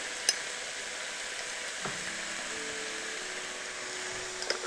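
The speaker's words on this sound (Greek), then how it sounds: "Ανακατεύουμε πολύ καλά όλα μας τα υλικά" Vegetable filling for spring rolls stirred in a pan, a steady soft sizzle with a faint scrape and a few light clicks of the utensil, fairly quiet and unbroken.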